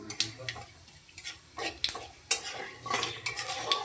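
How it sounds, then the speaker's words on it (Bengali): Nigella seeds spit and crackle as they hit hot mustard oil in a wok, with short sizzling bursts mixed with light utensil taps and stirring scrapes. "তেল গরম হয়ে গেছে, এর মধ্যে দিচ্ছি কালো জিরে ফোড়ন।"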